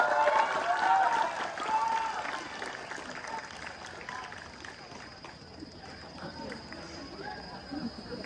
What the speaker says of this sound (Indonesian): Beri tepuk tangan yang meriah untuk kandidat nomor urut 5.